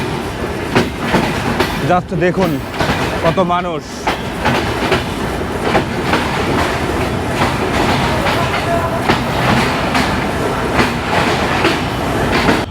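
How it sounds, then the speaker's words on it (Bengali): Chilahati Express pulling into Joypurhat railway station, its loud rumble and rhythmic clickety-clack of wheels on rails running steadily throughout, with a voice talking over the noise. "আমাদের ট্রেন প্রবেশ করতেছে জয়পুরহাট রেলওয়ে স্টেশনে"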